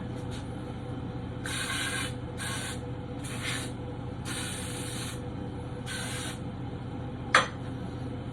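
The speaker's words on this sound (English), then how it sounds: "I'll spray a little CLP down into the locking plugs here" Short hissing bursts of CLP gun cleaning lubricant sprayed into a rifle's locking lugs, five or six quick squirts in a row, close by, followed by a sharp click.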